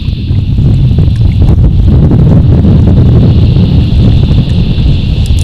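Strong wind on a lake during kayak fishing, loud constant buffeting roar across the microphone with rushing gusts, no talking.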